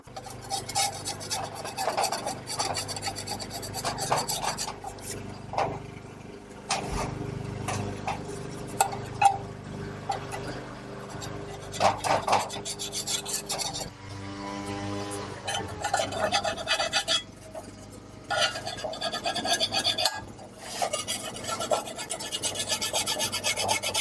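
Residue being scrubbed off a transmission oil pan and its magnet on a 62TE Chrysler Town and Country or Dodge Caravan, with steady rasping, rubbing strokes that continue close-up with brief pauses.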